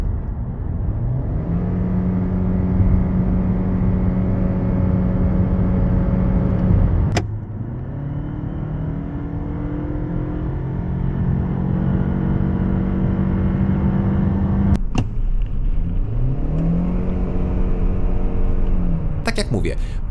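Two hybrid car engines heard one after another, a Ford Kuga 2.5 FHEV SUV then a Toyota Camry 2.5 sedan, both with eCVT, each a steady hum with gentle rises and falls in pitch, interrupted by a couple of sharp clicks; low talk runs underneath.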